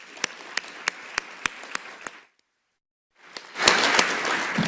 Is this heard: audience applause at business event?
yes